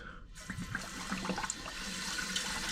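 A toilet tank refilling with water after a flush, a steady rushing and trickling of water that runs continuously and gets slightly louder toward the end.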